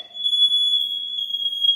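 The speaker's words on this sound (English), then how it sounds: "I'm up under my smoke detector" A household smoke detector set off by burning sage, blaring one continuous high-pitched electronic tone, loud and close, with no voices over it.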